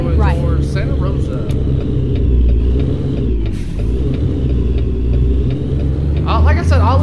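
A truck engine rumbles steadily while driving in a truck simulator video game, a loud, continuous low drone that runs under someone talking at the start and end.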